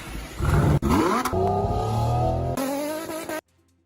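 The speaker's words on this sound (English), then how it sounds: "Listen to that V8." A powerful engine revs hard and close, rising in pitch through gear changes with a roaring growl, then cuts off abruptly into silence.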